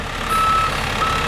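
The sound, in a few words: dump truck reversing beeps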